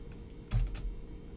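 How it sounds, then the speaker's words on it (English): Keys on a computer keyboard are tapped to enter a number, giving a brief cluster of soft, close clicks and a final key press, with no talking. "So I'll type in 70 here and hit enter."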